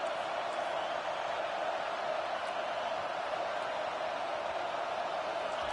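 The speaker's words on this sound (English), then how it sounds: "Decibels rising as the crowd gets behind this defense on third down." A college football stadium crowd roars for the defense on third down, a dense, sustained wash of cheering that stays loud and steady throughout with no break.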